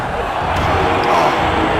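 Simulated arena crowd in the MDickie Wrestling MPire video game roars steadily through a chokeslam-heavy match, a dense, continuous wash of cheering with no clear breaks.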